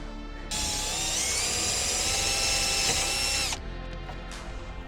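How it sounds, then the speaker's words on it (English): A power drill whines steadily at high speed while boring a hole for the spoiler bar on a Mazda MX-5 NC, running about three seconds before spinning down, close and loud. "I can drill a hole through."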